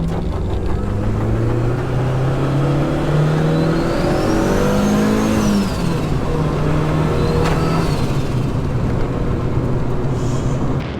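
Turbo K-swapped Honda Civic EJ on the move, engine revving up and down through several gear pulls with rising and falling tone, loud and close, with a faint turbo whine and no speech.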